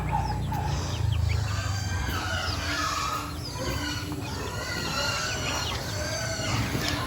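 Chickens kept as backyard pets cluck in short, repeated calls close by, steady over a low rumbling background with no talk.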